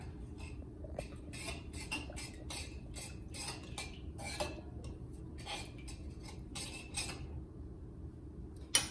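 A utensil clinks and scrapes rhythmically against a bowl while stirring a marinade of sesame oil and warm water, repeated taps spread steadily over several seconds, close by with no talking.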